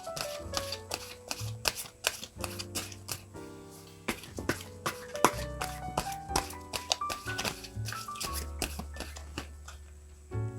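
Tarot cards being shuffled close up, a series of quick papery riffles and soft taps coming in uneven bursts, with faint background music and no talk.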